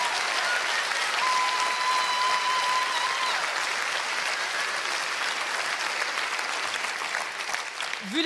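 A comedy festival crowd applauds a stand-up performer in Liège, with sustained, full clapping over the whole stretch that thins slightly near the end.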